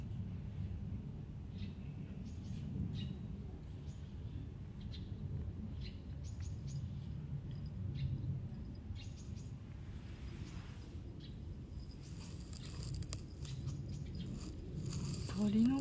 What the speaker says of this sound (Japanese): 鳥の声がすごい聞こえる。